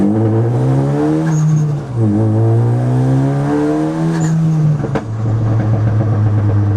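A Ford Focus ST four-cylinder engine revs loudly and steadily, its pitch rising and dipping, with a brief drop near the middle before climbing again.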